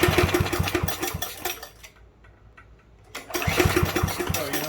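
Yard Machine push mower engine being pull-started: it sputters and runs roughly for about two seconds, dies to near silence, then catches again and chugs loudly and unevenly, close up, no talk.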